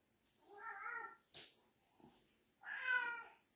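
A house cat meows three times, close and clear, with a short soft thump between the calls in an otherwise quiet room.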